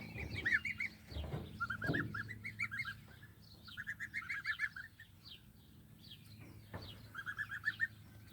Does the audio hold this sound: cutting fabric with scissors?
no